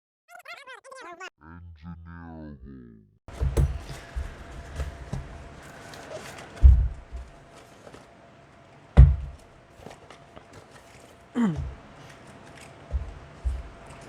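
Blade cuts into a cardboard shipping package from Vietnam holding a CNC drip feed controller, giving scattered sharp cutting and tapping sounds close by, with a short burst of tonal sound at the start.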